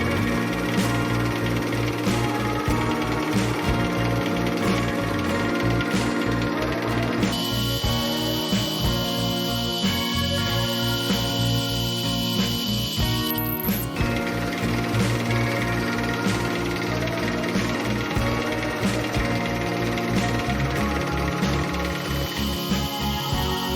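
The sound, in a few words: drilling holes for Shaker workbench front vise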